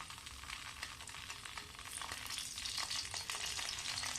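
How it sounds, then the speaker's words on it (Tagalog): Eggplant sizzles and crackles steadily in hot oil, a dense close-up frying hiss that swells slightly louder toward the end, during an outdoor cooking contest. "iprito muna natin yung ating mga talong"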